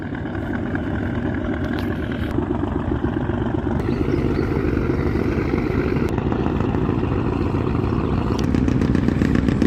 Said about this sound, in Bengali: তো এখন লঞ্চ ছাড়বে।